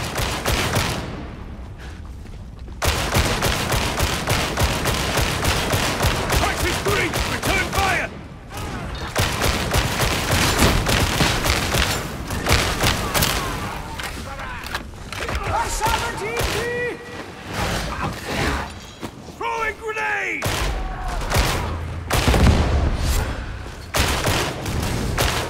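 Gunfire in Warhammer 40K Darktide, dense bursts of rapid shots and booms over about 25 seconds, with game voices calling out between the volleys.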